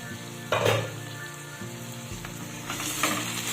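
Taro leaves with prawns cook in a pot and are stirred, giving a soft continuous sizzle with a few scraping strokes and bursts at intervals, fairly quiet and close, with no voices.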